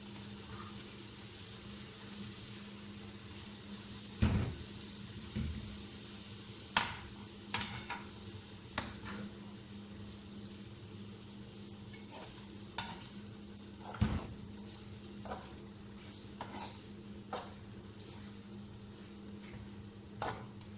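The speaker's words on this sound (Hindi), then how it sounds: "अब इसको अच्छी तरह फ्राई कर लेंगे, टमाटर गल जाएंगे" Mutton with tomatoes and green chillies frying in a pot, a steady low sizzle with scattered spoon knocks and scrapes against the metal, quiet and close, no talk.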